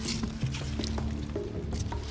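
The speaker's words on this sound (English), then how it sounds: "Oh man, the water's seeping in." Water seeping into a wet hole in the woods, giving steady, close squelching and squishing with scattered small drips and soft patters running throughout, with no voices.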